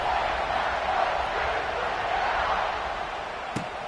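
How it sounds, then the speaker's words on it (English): Stadium crowd buzzing after a score in an NCAA college football video game, a loud, steady broadband roar of many voices with a single sharp knock near the end, no distinct speech. "this crowd is buzzing after that last score"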